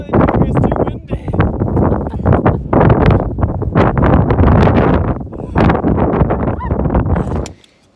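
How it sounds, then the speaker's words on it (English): Strong wind on the hillside of Ben Vrackie in Scotland, a loud, uneven buffeting roar that batters the microphone in gusts for several seconds before cutting off abruptly at the end. "It's too windy."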